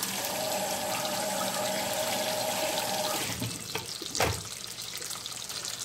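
Tap water runs steadily into a sink over lettuce for a few seconds, then stops, followed by a few brief splashes and knocks as it is handled.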